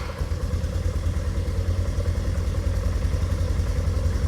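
Cheap four-wheeler ATV engine running after start-up, a close, steady rapid chugging idle with a rough mechanical clatter and no voices.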